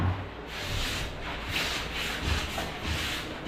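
Sandpaper rubs back and forth over putty on a primed roof surface, a close, steady scratchy swishing in regular strokes with no talk.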